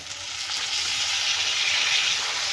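Three large tomatoes hit a hot pan where sesame seeds were just roasted for a quick chutney, setting off a steady, loud broadband sizzle that holds evenly throughout with no talk.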